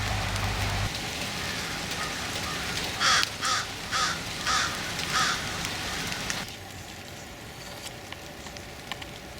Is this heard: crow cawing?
yes